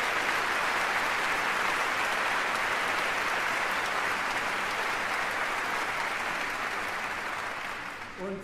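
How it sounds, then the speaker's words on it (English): An audience at the Leipzig Book Fair opening claps in a broad sustained wash of applause that holds steady throughout and tapers off slightly at the end. "now you can applaud dear Maria Stepanova"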